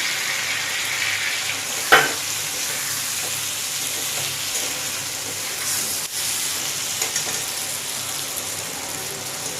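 Apple achar with sugar being stirred in a pan, giving a soft continuous sizzle with scraping strokes of a spoon, one sharper clack near the start, and no one speaking.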